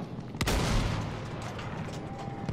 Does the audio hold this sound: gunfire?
yes